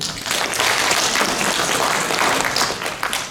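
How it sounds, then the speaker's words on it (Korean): Elderly audience at a senior health town hall meeting applauding, a dense, loud burst of clapping that fills the space evenly from start to finish. "예, 박수 한번 주세요"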